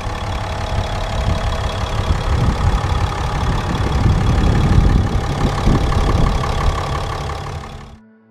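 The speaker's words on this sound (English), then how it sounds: "I'm going to take a look at the engine now." A 2014 Ram 2500 Big Horn Mega Cab diesel idles close by with a steady clattering rumble that swells slightly midway, then cuts off abruptly at the end.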